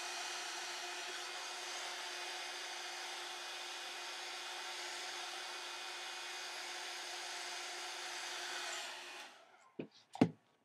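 A Babyliss Big Hair rotating hot brush blow-drying hair gives a steady airy whir for about nine seconds, then switches off, followed by a few brief handling clicks.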